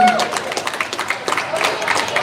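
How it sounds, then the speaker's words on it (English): Outdoor crowd at Speakers Corner in Brisbane applauding the speakers, a continuous patter of many hands clapping at close range that fills the whole moment. "Can we have an applause for everybody who's spoken?"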